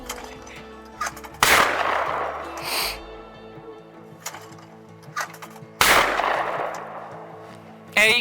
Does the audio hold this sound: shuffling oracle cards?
no